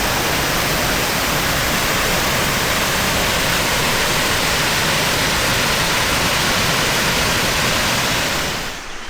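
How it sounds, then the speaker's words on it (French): Grande Cascade de Tendon, a waterfall in the Vosges, roars as a steady, loud, dense rush of falling water that fills the whole clip and fades slightly at the very end. "je suis descendu jusqu'à la grande cascade de Tendon"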